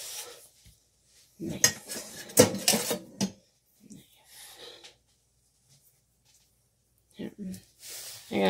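Clattering of cutlery and pans being rummaged through in a kitchen drawer while looking for a knife, with several sharp metallic bursts and gaps between them; a voice can be heard briefly near the end.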